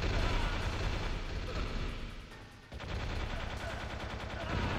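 Machine gun fire in the video game Metal Gear Solid, a dense continuous burst of rapid shots that briefly dips, then resumes at full intensity with a rattling, evenly spaced rhythm.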